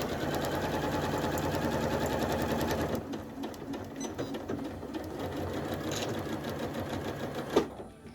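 A sewing machine stitches a quarter-inch seam down the side of a scrap-fabric mini tote, running in a steady loud whir for three seconds, then continuing in shorter, quieter bursts with a brief clack near the end.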